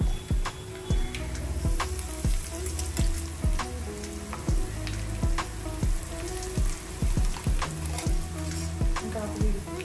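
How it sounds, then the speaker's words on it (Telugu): Coconut powder fries in a hot tempering pan while being made into Andhra-style coconut rice, giving a continuous close sizzle broken by regular scraping strokes of a spatula stirring the pan. "కొబ్బరి పచ్చివాసన లేకుండా తాలింపులో కొబ్బరి అనేది బాగా ఫ్రై అవ్వాలి"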